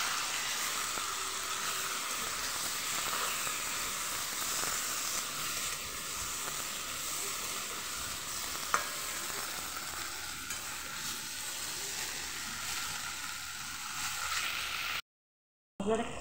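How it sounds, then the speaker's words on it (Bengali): Masala for a fish curry sizzles and fries steadily in a pan while it is stirred, a constant close hiss with occasional scraping, cutting off briefly near the end. "মশলাটা খুব ভালোভাবে কষিয়ে নিয়েছি।"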